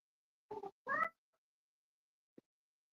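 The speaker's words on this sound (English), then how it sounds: "My cat's in heat." A cat in heat meowing, two short close meows in quick succession, the second longer and rising, followed by silence and a faint brief sound.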